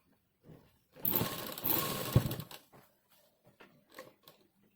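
A sewing machine stitches elastic onto a waistband in two close, buzzing runs of about a second each, followed by a few soft handling clicks and rustles as the fabric is shifted.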